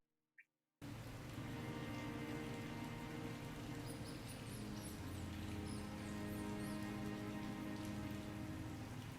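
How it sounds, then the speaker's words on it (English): Heavy rain pummeling a city in the game Calvino Noir, a thick, constant downpour starting abruptly after a brief silence and holding steady with scattered drips and splashes. "Biblical rain pummels the city"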